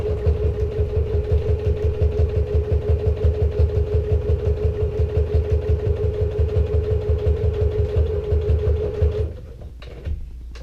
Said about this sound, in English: I'm just top stitching as close as I can to the bottom edge